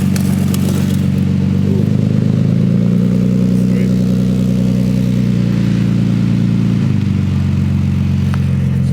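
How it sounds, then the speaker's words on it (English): A tow truck's engine runs steadily at idle while a BMW E36 is loaded onto it, a loud, close, continuous low drone with faint clatter. "Alright guys, so we got the tow truck here."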